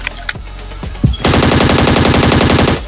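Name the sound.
gunfire in the video game Scarfall 2.0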